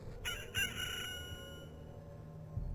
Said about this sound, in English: That was a crunchy chicken.